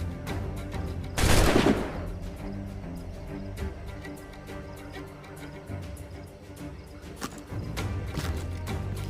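Gunfire in Assassin's Creed IV Black Flag, a loud burst of shots early on followed by scattered, sharper cracks against a busy game soundscape of music and effects.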